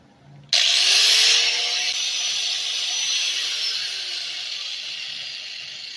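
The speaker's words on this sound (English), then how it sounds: "when you run it across the grinder, you get it kind of clean" An angle grinder fitted with a cutting wheel bites into rusty metal on a broken mower hitch, starting abruptly into a loud, continuous high whine that holds steady and eases slightly toward the end, close by.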